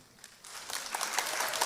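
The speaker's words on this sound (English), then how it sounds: "Let that applause roll till he gets here." Audience applause for Jim Ovia at a Delta State Security Trust Fund event. It starts softly and swells into steady, moderately loud clapping for under two seconds.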